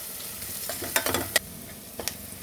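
Ginger garlic paste frying in a pan for an aloo and chana dal curry, a steady close sizzle with a few sharp spatula scrapes and clinks, no voices.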